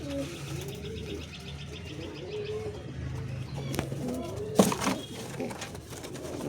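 Pigeons in a loft of paired, ringed birds coo softly at low pitch, with a few chirps and a brief flutter near the middle, moderately close and fairly quiet under low background noise.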